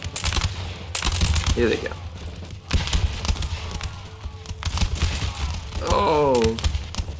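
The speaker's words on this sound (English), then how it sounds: "Let's see your volley fire." Musket volley fire in the Empire: Total War video game, a dense crackling burst of shots under loud battle noise, with someone commentator talking over it.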